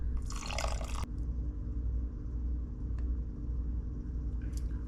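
Water poured into a sourdough mix in a short splashing burst at the start, followed by a low continuous rumble and a few faint drips.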